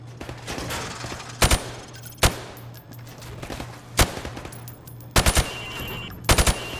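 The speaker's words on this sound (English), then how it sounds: "I want you to shoot the targets through the wood." Gunfire in Call of Duty Modern Warfare Remastered, shooting targets through plywood at a training range: sharp single shots and quick bursts of two or three, loud and close, with quiet gaps between them.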